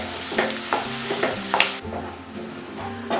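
Onion sautéing in a pan to go translucent for a dry tiny prawns dish: a crackling sizzle broken by repeated scraping stirs, with the hiss dropping off partway through and then resuming more softly.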